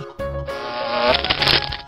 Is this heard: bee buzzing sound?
yes